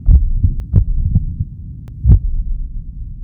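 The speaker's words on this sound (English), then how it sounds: "we can hear William's heart beating slower and slower, and eventually it stops" A heartbeat thumps in low, muffled double pulses that come further apart each time, heavy and close, with a faint hum underneath.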